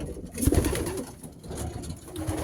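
A racing pigeon gives a low, rolling coo close by, with a strong pulse of calls early on and quieter cooing and rustling from other loft birds continuing throughout.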